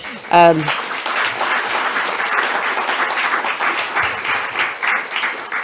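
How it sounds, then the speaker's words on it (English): Audience applause fills a room at a university report launch, a dense steady wash of many hands clapping from start to finish, with a brief voice or tone at the very beginning. "I think Daniel deserves an extra round of applause for"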